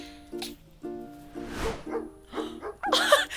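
A dog barks repeatedly in short, evenly spaced yaps, close by and moderately loud, with other brief noises mixed in between the barks.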